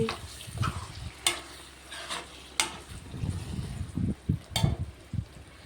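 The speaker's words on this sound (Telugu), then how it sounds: "ఈ కొత్తిమీర వేసుకొని మళ్ళీ ఒక్కసారి అట్లా మీద మీద అట్లా కలిపేస్తా అంతే" Eggplant curry being stirred in a pan after coriander goes in, with repeated close scraping strokes of a spoon over a low sizzle, no voices.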